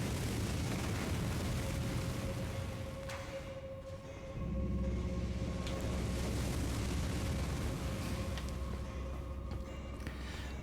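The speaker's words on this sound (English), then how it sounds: "this is the one that blows fire" An enemy in Elden Ring breathes fire, heard as a loud roaring whoosh with rumbling low bursts that briefly dip and then swell again into a sustained heavy blast.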